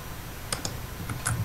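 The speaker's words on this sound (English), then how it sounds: "Typing so much." Sparse keystrokes on a computer keyboard during a Minecraft session: a handful of light, separate clicks over a constant background hum, near and quiet.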